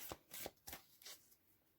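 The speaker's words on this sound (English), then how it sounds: "Let's give them a good shuffle." A tarot card deck is riffled and shuffled by hand in several quick, soft bursts, close and quiet with no talk.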